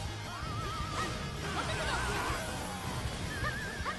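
A horse whinnies in the Dynasty Warriors 9 video game, wavering neighs repeating over a busy backdrop of game noise, with a faint hint of hoofbeats.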